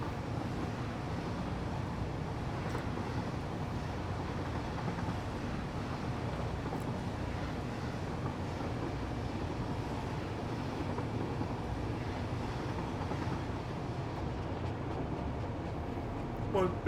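A train rolling along rails in the Satisfactory game, a steady, unbroken low rumble and drone that holds at an even loudness from start to finish, with no clear clacks or horn.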